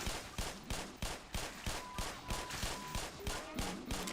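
Rapid gunfire from high-powered rounds in the Black Mesa video game, a steady rhythm of about a dozen sharp shots roughly every third of a second, fairly faint and distant, with a few soft electronic tones underneath.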